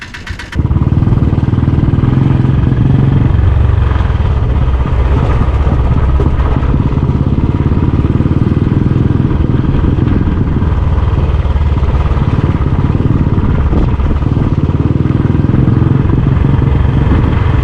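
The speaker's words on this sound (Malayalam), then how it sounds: "ഇവിടുന്ന് വണ്ടി എടുക്കുവാണ് ഇനി നമുക്ക് ചെറിയ ഓഫ് റോഡൊക്കെ ഓടിക്കാനുണ്ട്" A vehicle rides off-road on the route to Arappukadu tunnel near Vagamon in Idukki, its engine droning loud and close without a break, with rough rumbling and clatter from the uneven track.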